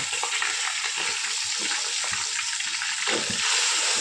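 Whole spices sizzling and crackling in hot oil in a home kitchen pan as beef with jackfruit is being cooked, a steady close frying hiss with small pops and stirring scrapes throughout.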